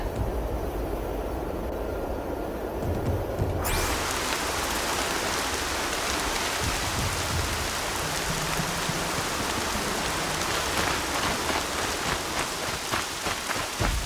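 Steady rain in the video game Horizon Zero Dawn pours down in a dense, continuous hiss that turns brighter and fuller after a few seconds, with no voices.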